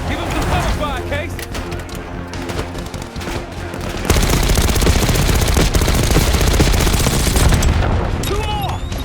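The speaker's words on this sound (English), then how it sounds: "Give him some cover fire, Case." Heavy cover fire crackles through a Call of Duty Black Ops 6 battle scene, dense bursts of automatic gunfire over a rumbling score that swells louder and more chaotic halfway through, with voices in the mix.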